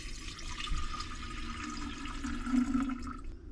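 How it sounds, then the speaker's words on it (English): Water splashes and trickles steadily into a container, a close, continuous pouring sound that tapers off near the end. "I'm going to transfer this water here."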